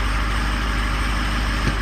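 Truck engine running steadily in reverse with the accelerator pedal floored, a continuous low drone that stays flat and does not rev up, close and fairly loud with no talk.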